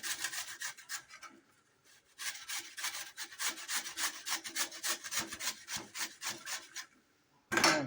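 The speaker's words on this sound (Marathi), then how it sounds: "आता या किसणीच्या ह्याच्यावर, या मोठ्या ह्याच्यावर तुम्ही किसून घ्यायचं आहे." Peeled potatoes are rubbed over the large holes of a kitchen grater for a fasting-day potato dish, giving a steady run of rapid, rasping strokes up close, with a short pause midway and a brief clatter at the end.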